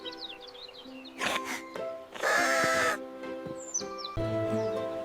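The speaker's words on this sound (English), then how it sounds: "The bird is singing a beautiful song." Bird chirps and calls outdoors in a park by a pond, mixed with other animal bleats and bursts of noise, fairly close and intermittent.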